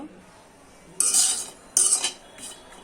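A metal spatula scrapes and clinks against a pan while dried loitta fish is dry-roasted. It comes as two loud stirring bursts, then a fainter third, over a quiet background with no talking.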